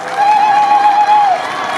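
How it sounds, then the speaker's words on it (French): At a public ceremony, a crowd claps for the minister in a steady, dense wash of applause, with a thin sustained whistle-like tone running through it. "je voudrais que la population applaudisse son digne fils"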